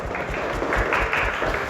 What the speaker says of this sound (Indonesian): tepuk tangan untuk Jeffrey